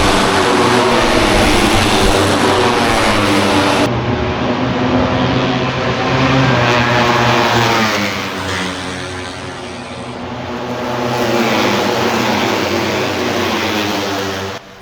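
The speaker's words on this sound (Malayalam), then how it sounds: "ഈ ഒരു ഏരിയയിൽ ഇതേ ബൈക്കുകൾ പോകും." MotoGP racing motorcycles passing on a track in Malaysia, a loud sustained engine roar that swells and fades as the bikes sweep by, heard from a trackside spot.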